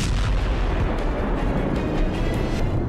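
A heavy explosion rumbles through a Ukrainian army convoy near Zaporizhzhia, a dense, sustained roar of blast and debris filling the whole moment, loud and without any voices.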